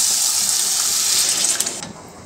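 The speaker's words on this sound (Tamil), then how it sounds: "இப்போ இது கூட நான் கொஞ்சம் தண்ணி சேர்த்துருக்கேன்." Water poured from a tap or vessel into a pot of dal fry while cooking, a steady gushing stream that runs continuously and cuts off near the end.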